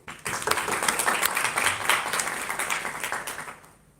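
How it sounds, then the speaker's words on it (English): Audience applause for a guest speaker at a university presentation, a dense burst of clapping that rises sharply, holds steady at moderate loudness and fades out near the end. "please put a round of applause for Mr. Jules Singh"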